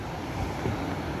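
Low-tide sea waves at a beach wash in as a steady, broad rush mixed with wind noise on the microphone, with no voices.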